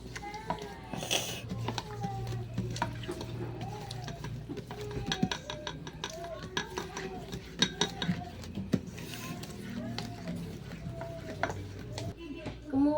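A spoon stirs cookie batter with vanilla in a bowl, making repeated light clinks and scrapes against the sides while a voice talks over it throughout.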